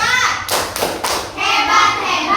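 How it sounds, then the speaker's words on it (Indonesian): A group of children in a primary school classroom claps a short rhythmic cheer, three or four sharp claps close together, mixed with their chanting voices. "Oke, kita tepuk hebat buat teman kita"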